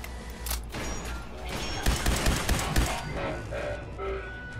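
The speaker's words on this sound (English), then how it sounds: "whatever that was just shooting at me, those projectiles were massive" Heavy gunfire in Fallout 4, a dense barrage of loud, booming shots with massive projectiles, thudding impacts peaking through the middle of the stretch with no talk.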